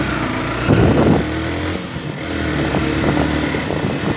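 A motorcycle engine revs while riding on a commute to work, with a few louder throttle surges over the steady road-going drone.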